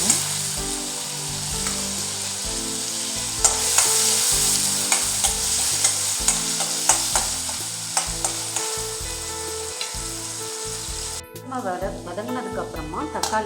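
Chopped onions sizzle steadily in a pan for a chicken gravy, with repeated scraping stirs, some music in the background and a sudden change in texture near the end.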